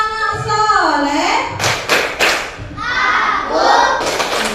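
Children chant a rhythmic Indonesian clapping song in a classroom, with sharp claps punctuating the sung words led by a voice.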